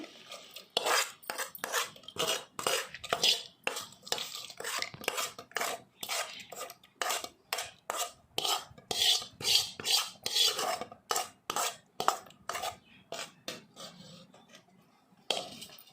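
Tomato pickle is stirred with a metal spoon, a steady run of close, sharp scraping and clinking strokes in an even rhythm that thins out toward the end.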